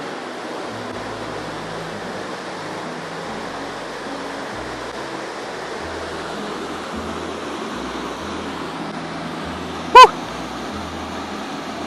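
Jamieson Creek Falls pours in a steady, unbroken roar of rushing water that fills the space, with one sharp click cutting through near the end.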